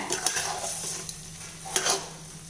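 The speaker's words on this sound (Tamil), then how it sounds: "இப்போ இதை நல்லா பெரட்டி விட்டுறலாம்." A spoon scrapes and clatters in a pan over a light sizzle of brinjal masala frying, with two sharper stirring strokes standing out.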